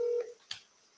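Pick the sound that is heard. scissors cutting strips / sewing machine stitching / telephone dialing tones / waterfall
telephone dialing tones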